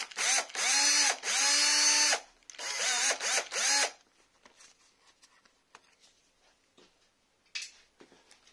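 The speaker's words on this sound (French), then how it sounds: "On va en profiter qu'on a mis le petit embout pour virer l'amortisseur tordu." A power drill fitted with a small bit runs in two loud whining bursts that rise and fall in pitch while it backs out a bent shock absorber, followed by quieter scattered clicks and clanks of parts being handled.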